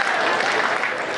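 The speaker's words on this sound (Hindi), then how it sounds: "तालियां बड़ी कमजोर रह जाती हैं" Dense applause from the audience at a Hindi comedy poetry gathering, a loud, steady wash of many hands clapping together without a break for about a second.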